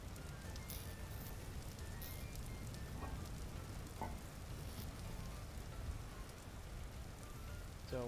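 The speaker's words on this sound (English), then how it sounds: "Do you think rain should go, hey, come again another day?" Steady rain patters continuously in the survival game Vintage Story, a soft even hiss of drops on surfaces with a few faint ticks and tones over it.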